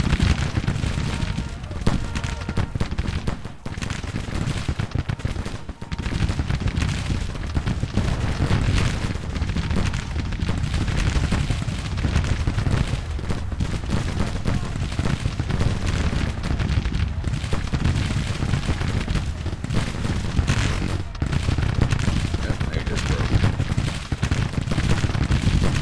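Continuous dense roar of Civil War battle in Grand Tactician: The Civil War video game, with booming artillery fire and explosions layered into a loud, unbroken wall of rumbling noise.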